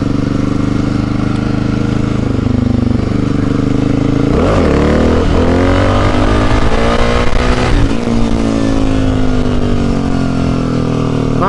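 Motorcycle engine revving hard during wheelie practice, the rider rising with the bike, a loud continuous roar with throttle surges and pitch sweeps rising and falling, close by and alone.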